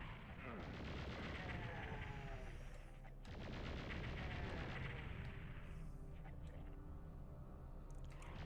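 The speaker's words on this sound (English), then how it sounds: "Now I could hear a chain gunner there" Rapid, loud chaingun fire from a chaingunner in the PlayStation version of Doom II rattles on in sustained bursts, with a short break near the middle, amid dense game sounds.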